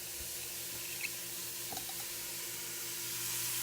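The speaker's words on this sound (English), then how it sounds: "now I'm just frying down the onions" Steady, quiet sizzling of onions frying in a pan, a soft continuous hiss with a few faint clicks and pops, no voices.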